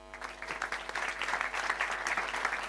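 An audience at a 2023 inauguration event in Hérault applauds a departmental vice-president, a lively, even burst of many hands clapping at moderate distance.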